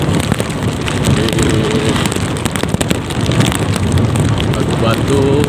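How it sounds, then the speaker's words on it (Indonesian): Light drizzle falls during a daytime motorbike ride toward a village on Simeulue, Aceh, its patter buried under loud, constant wind rush and road noise, with a voice talking over it. "Ini ya sampai sini rintik-rintik hujan"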